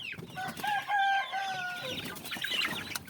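Seven-week-old Dominant breed chicks cluck and chirp close by outdoors, a busy run of short calls with one longer crowing-like cry in the middle.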